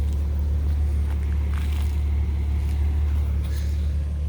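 A car engine idling after running for twenty minutes, a steady loud low hum with a constant throb, continuous throughout, with faint clicks and noises on top.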